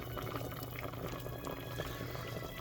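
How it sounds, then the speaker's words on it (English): A pot of water for instant Singapore black pepper crab la mian noodles bubbles at a rolling boil, a steady close gurgle and rumble that stays even throughout, with no voices. "It also said a medium boil, so I'm going to turn that down a bit"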